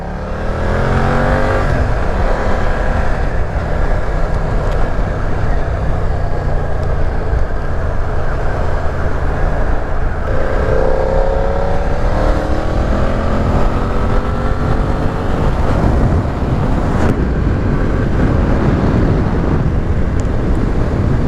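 A BMW F 900 R motorcycle engine is held at full throttle and climbs steadily in revs, a loud, close, continuous roar that rises in pitch across the whole stretch with no voices over it.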